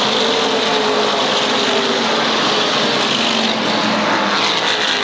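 SK Modified race cars roar around Waterford Speedbowl's oval during a 1992 feature, coming off the fourth turn. A loud, continuous wall of engine noise holds steady throughout, with no talking.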